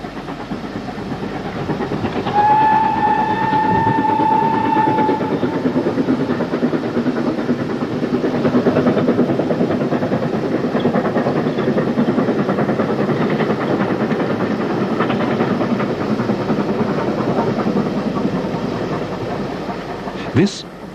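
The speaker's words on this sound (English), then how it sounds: "This is a working steam railway." A working steam railway train from the 1980s runs on steeply graded, winding track, a steady rumbling chug with a whistle-like tone early on, continuous and moderately close, with a voice talking over it.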